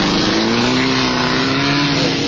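Front-wheel drive Mini rallycross cars, including a Cooper S, race flat out over a wet, muddy track, their engines a loud, steady, close roar with a sustained high whine and no pauses.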